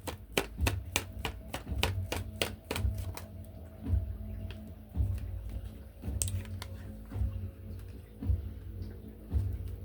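Tarot cards being shuffled by hand, a string of crisp, close clicks and riffling snaps at an uneven pace, with soft low thumps between them.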